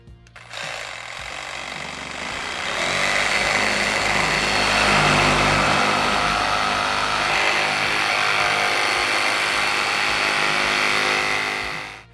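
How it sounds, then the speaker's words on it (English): A power tool cuts through the steel rear bumper bar of a Toyota Land Cruiser 200 Series with a harsh, loud, continuous grinding roar. It builds up over a couple of seconds and holds steady for around nine seconds before stopping. "I'm just going to start cutting the bar and then finish it off with some pinch welds."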